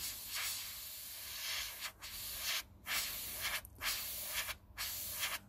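Spray paint hisses from an aerosol can in short, close bursts while streaks are laid across a model surface, each spray separated by brief silent gaps.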